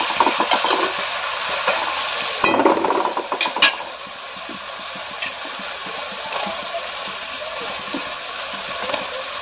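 Meat being stirred with sour yogurt in a pot for a festive khichuri-and-mutton meal, with wet scraping and sloshing strokes, a few louder clanks early on, then steady softer stirring throughout.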